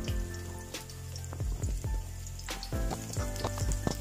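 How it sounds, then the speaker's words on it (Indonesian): Shallots and garlic frying in hot oil, with a steady sizzle and repeated clanks and scrapes of a spatula against the pan, close and fairly quiet. "Terus kita taruh bawang merah sama bawang putih,"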